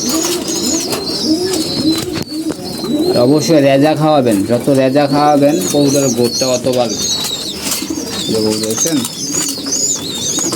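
Pet pigeons cooing in a loft, repeated throaty rolling coos close by, with someone talking over them throughout.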